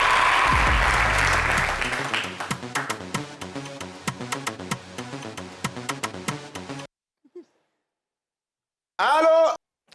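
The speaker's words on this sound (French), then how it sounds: "Applaudissez pour nous," Studio audience applause on a French-language TV show swells loudly at the start, then breaks into rhythmic clapping that stops abruptly, followed by silence and a short burst of a voice.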